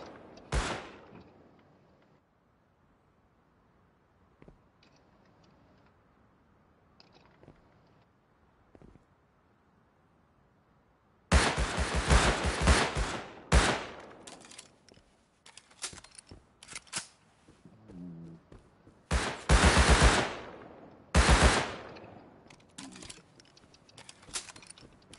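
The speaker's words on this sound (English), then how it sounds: "the turrets are going off at the same time" Automated turrets in a video game fire in sharp, loud bursts after a quiet stretch, with clusters of rapid cracks coming in several separate volleys.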